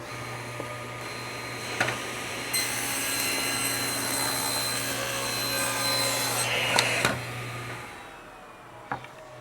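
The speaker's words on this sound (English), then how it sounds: "with our 60 tooth triple chip grind blade, 15-degree, positive hook, let's have a look at cut quality in our melamine" Table saw fitted with a 60-tooth triple chip grind blade, 15-degree positive hook, running and slicing through melamine, a steady whirring hum that rises into a louder cutting roar, with a few sharp knocks and clunks around it.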